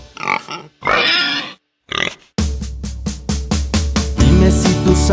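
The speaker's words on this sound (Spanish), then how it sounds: "Dime si tú sabes cómo hace el puerco, vamos a escucharlo tú y yo." A pig grunts and oinks in a few loud, close bursts with short gaps, then a rhythmic children's song with a steady beat takes over and continues.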